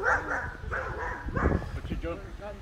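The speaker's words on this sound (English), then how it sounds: "The dogs." Dogs bark and yip in short bursts during a walk around Southborough common, close by and mixed with people talking over them.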